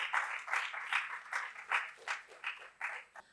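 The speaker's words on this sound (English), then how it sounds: "Give them a big round of applause." Sparse clapping at a crime-writing festival session greets the speakers, a small audience producing distinct, uneven bursts of claps at moderate distance, alone without voices.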